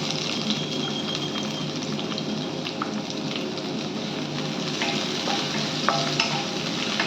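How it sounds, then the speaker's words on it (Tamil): Sliced onions sautéing in coconut oil in a pan for fish korma, a steady close sizzle with a faint crackle of frying and a few light stirring clicks throughout. "ஆனியன் போட்டு நல்லா வதக்கணும்"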